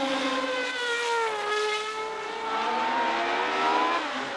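Several 1970 Formula 1 race cars at full throttle, high-pitched engine wails rising and falling as they accelerate and pass, continuous and fairly loud with overlapping tones.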